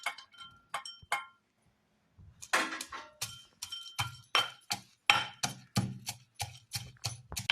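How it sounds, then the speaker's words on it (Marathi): Garlic and peanuts drop into a pot while a Maharashtrian mirchi thecha is being made: a few sparse clinks, a short pause, then a quick run of sharp clattering taps, close and fairly quiet. "आता आपण लसूण आणि शेंगदाणे टाकायचे."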